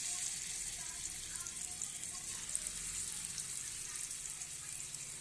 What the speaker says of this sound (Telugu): ఇప్పుడైతే ఆయిల్ కాగిపోయిందండి చూడండి అప్పుడైతే చా అదే ఫిష్ ముక్కలు వేసేసుకుంటున్నాను